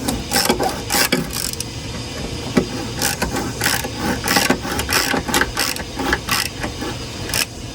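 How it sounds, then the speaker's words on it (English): A vintage Soviet ratchet screwdriver drives a one-inch screw, giving off quick bursts of close, sharp ratcheting clicks in an irregular rhythm, with brief pauses between strokes. "It's set right now to drive a screw"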